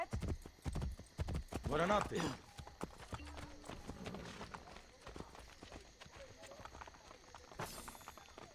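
Rhythmic horse hoof clip-clops in Assassin's Creed Brotherhood, a quick run of hard knocks early on, then scattered game sounds and speech continuing underneath.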